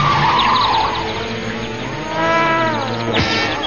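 Cartoon car skidding with tires squealing, drawn-out wavering screeches and sliding tones that rise and fall over a low engine hum, with a sharp squeal burst near the end.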